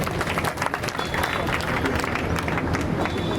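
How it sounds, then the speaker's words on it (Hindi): Loud, sustained audience applause and clapping at an awards ceremony for a career institute in Nagaur, a dense continuous wash of many hands filling the whole stretch. "एक बार और जोरदार ताली हो जाए।"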